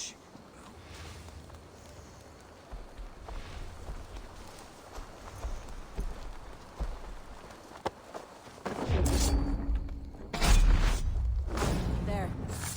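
Horse hooves clopping along at a walk in Assassin's Creed Valhalla, soft rhythmic thuds under ambient game sound, growing louder and heavier toward the end.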